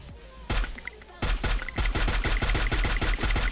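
Rapid bursts of gunfire in the battle royale game Free Fire, a loud sharp shot then a fast continuous volley of evenly spaced shots, close and dominant with no talk.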